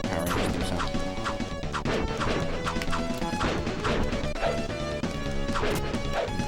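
Fighting sounds from the Super Nintendo game Mighty Morphin Power Rangers: dense repeated hit and crash effects over continuous game music, loud and busy throughout.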